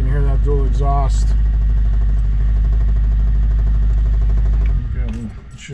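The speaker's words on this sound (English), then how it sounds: "You can hear that dual exhaust." A 1963 Ford Falcon Futura with dual exhaust idles in a steady, loud, low rumble, with someone talking over it; near the end the engine falls away.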